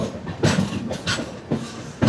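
A passenger train on the Shoranur–Alappuzha line rolls into Alappuzha station, heard from inside as a rumbling run broken by periodic clunks of wheels over rail joints, with no talking.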